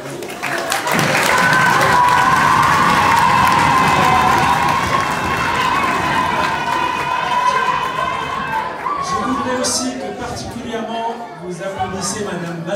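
An audience applauds and cheers a retiring teacher at a school event, loud sustained clapping mixed with shouts and excited children's voices, fading into chatter and scattered claps toward the end.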